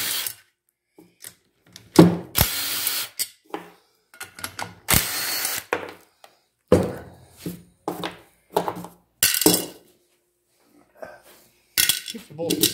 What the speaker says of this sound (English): first thing you want to do is take off your overhead valve cover